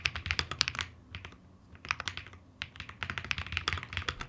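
Close, crisp typing on an Akko Monsgeek M1 mechanical keyboard, rapid bursts of clacky keystrokes with a short pause in the middle, fairly quiet and alone.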